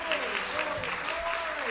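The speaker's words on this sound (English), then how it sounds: "Give the Lord a hand clap of praise" Church congregation at Dale United Methodist Church in Middletown giving a hand clap of praise, steady applause beneath a voice speaking and singing over it.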